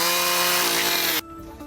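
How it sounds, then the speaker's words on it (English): A loud, steady motor whine with strong harmonics, like a running chainsaw, cutting off abruptly to a quieter idle hum near the end. "the sound of a chainsaw usually means destruction"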